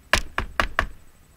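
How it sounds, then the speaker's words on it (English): Four crisp knocks on a door in a storytelling setting, sharp and close, in a quick uneven rhythm: one, then a tight group of three, fading into quiet with no voice. "She knocked on the door."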